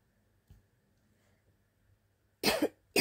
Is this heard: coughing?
yes